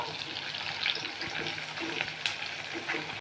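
Homemade hibiscus hair oil with its ingredients bubbles and sizzles in a pan, a close, busy frying crackle with faint background voice murmurs.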